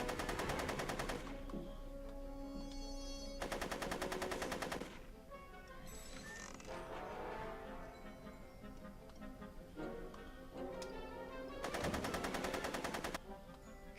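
Rapid machine-gun fire rattles in repeated bursts during a cutscene in Back to the Future: The Game, loud sustained volleys alternating with quieter stretches of background sound and no talk.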